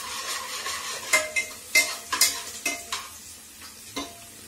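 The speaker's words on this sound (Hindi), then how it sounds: "तो जब तक मेरा प्याज फ्राई होता है" Onions fry in a pan with cumin, a soft sizzle beneath repeated sharp scrapes and clinks of a spoon stirring against the metal, spaced irregularly every half second or so.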